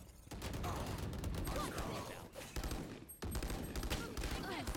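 Dense, continuous rapid gunfire from the video game Valorant, with overlapping bursts and shots forming a loud, unbroken barrage, and a brief dip midway before it resumes.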